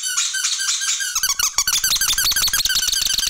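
A rubber dog toy squeaks repeatedly in a fast, rhythmic series of shrill squeals, close and loud, with soft chewing or squeezing thumps between the squeaks.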